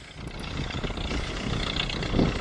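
A tractor engine hums steadily at moderate volume while seed is broadcast over a field, with a faint wind-like wash and no clear talking.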